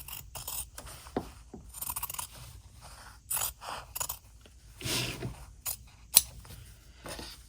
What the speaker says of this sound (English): We're just going to cut on this middle line